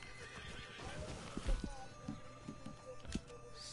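Horse whinnies and clip-clopping hooves from the Red Dead Online video game, a neigh rising over steady in-game ambience with a few sharp hoof thuds and a louder burst midway, fairly close.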